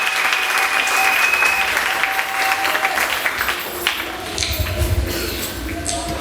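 A church congregation bursts into loud, sustained applause, dense close clapping that slowly thins out, with a few voices calling over it.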